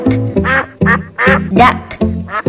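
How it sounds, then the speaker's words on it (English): A cartoon duck quacks loudly and close up, about six raspy quacks in quick succession with short gaps between them. "Duck."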